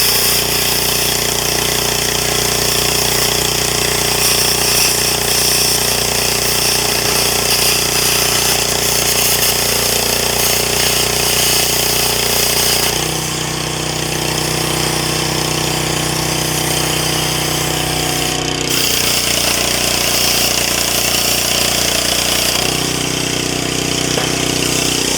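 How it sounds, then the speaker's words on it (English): Honda GX160-powered generator welder engine running steadily and loud throughout, its drone shifting pitch and load a few times while welding a hydraulic log splitter during an overhaul. "you can hear the generator welder laboring a little bit."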